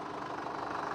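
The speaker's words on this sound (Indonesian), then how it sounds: "Suara mesin diesel seperti ini" A 2017 Chevrolet Trailblazer LTZ's 2.5 L four-cylinder turbo diesel engine idles with a steady, even rumble and a faint knocking clatter, close and continuous with no voices.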